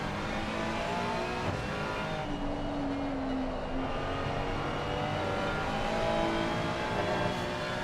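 Race car engine heard from the on-board camera at Laguna Seca in a racing video game endurance event, a steady, loud continuous drone with shifting tones throughout, no talking.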